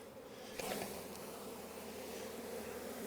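Honey bees are shaken from a hive frame onto a table during a summer hive inspection, giving a close, continuous buzzing drone with a brief thump as the frame is knocked.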